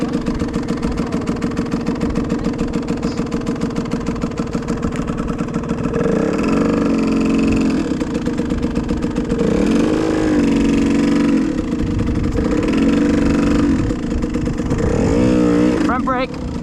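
A motorcycle engine idles with a steady rumble, then rises in several brief revs as the throttle is opened gently by a learner rider, while an instructor talks over it.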